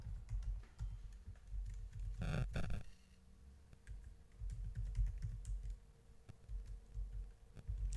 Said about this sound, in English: And then we type restaurant.